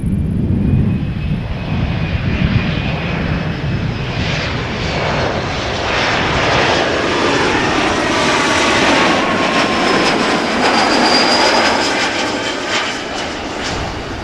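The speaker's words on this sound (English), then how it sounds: "Next up is KLM flight 1936, Embraer 175, arrived from Geneva" A KLM Embraer 175 regional jet arriving at Amsterdam Schiphol airport on a summer evening. A loud, steady, close roar of jet engines holds for the whole stretch, with a high whine rising briefly.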